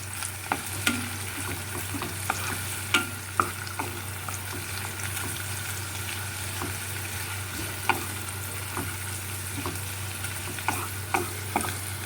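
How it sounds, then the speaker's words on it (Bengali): Chopped onions frying in a pan over low to medium heat, a constant gentle sizzle broken by regular stirring scrapes and soft clicks of a spoon, no speech. "প্রথমে দেবো এখানে পেঁয়াজ কুচানো পেঁয়াজটা যখন লাল লাল করে একটু হবে"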